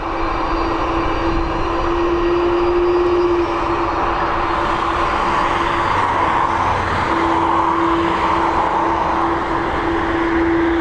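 Jet airliner at Dublin Airport, its steady engine roar holding loud and continuous with a sustained tonal whine throughout, close by on the apron or taxiway.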